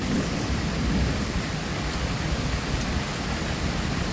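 Heavy rain pours steadily while thunder rumbles continuously underneath, giving a dense, loud, unbroken wash of storm noise with no talking.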